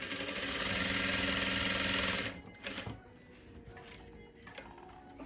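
A Juki 8100e straight-stitch sewing machine quilts with an Organ size 16 needle and Tex 40 thread. It makes a fast, steady, close mechanical whir for about two seconds, then stops, leaving faint clicks and handling noises.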